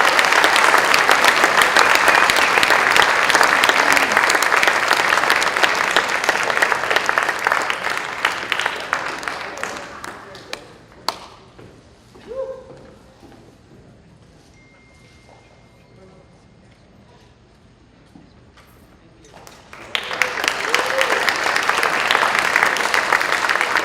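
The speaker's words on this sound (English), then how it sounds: "Give everybody a round of applause." An audience applauds award winners at a press club event, loud sustained clapping for about ten seconds, then a quiet stretch with a little speech, before the clapping swells back up strongly.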